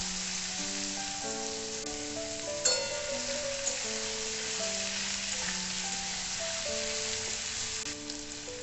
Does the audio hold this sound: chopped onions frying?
yes